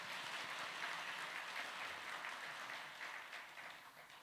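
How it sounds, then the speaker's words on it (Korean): A church congregation applauds at a Korean men's mission dedication service, a steady, even wash of clapping held at a distance, fairly soft, tapering slightly toward the end. "목사님께 감사 박수를 드리겠습니다."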